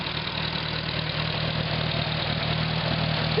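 A WWII Hobart Brothers A3 generator with a Hercules engine, converted to 12 volts, idles close by with a steady, even mechanical drone and a low rhythmic chug throughout, no voices.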